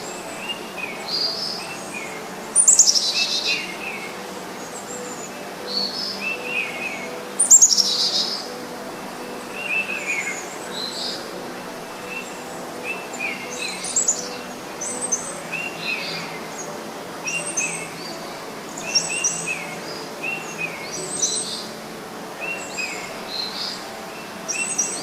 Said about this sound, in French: Je vous laisse profiter au son des oiseaux.